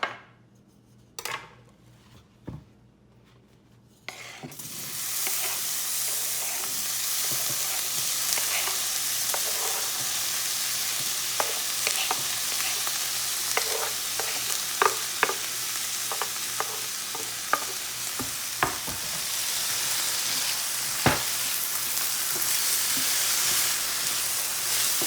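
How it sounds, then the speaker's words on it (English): Vegetables dropped into hot oil in a pan for a tofu scramble: a few clatters in near silence, then a sudden loud, continuous sizzle with scattered stirring clicks and pan knocks. "once you've heated up your pan, you can go ahead and add some oil. And now just throw in your vegetables."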